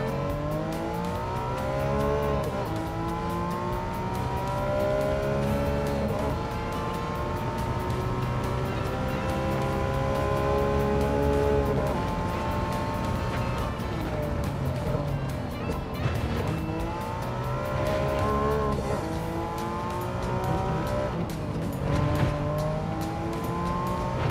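A 2009 Porsche 997 911 GT3 in a Gran Turismo race: a steady, loud engine drone whose pitch climbs and falls through gear changes across the whole stretch, with brief dips as it backs off for corners.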